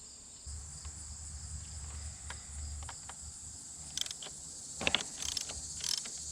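A 14 mm bolt being unscrewed with a ratchet on a 2019 BMW R1250 GSA motorcycle, a low mechanical grind followed by faint clicking turns over steady outdoor insect chirping.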